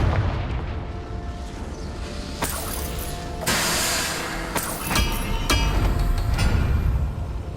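Confringo fire spell blasts in the Hogwarts Legacy video game: loud, booming explosive bursts over a dense, rumbling wash of game noise, with several sharp impacts in quick succession.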